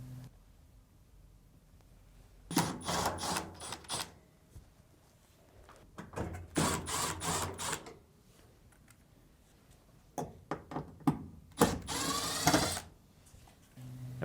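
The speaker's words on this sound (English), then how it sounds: "remove the 3 screws on the lint duct" A screwdriver works out the three screws on a Samsung dryer's lint duct, heard as three close bursts of whirring, ratcheting mechanical noise separated by quieter pauses, with no talk.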